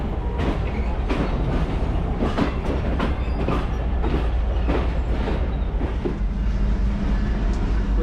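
Tezgam Express passenger train rolling into Lahore Junction station in Pakistan, loud and close, with a steady rumble, repeated wheel clatter over rail joints and faint squeals as it slows, no talk.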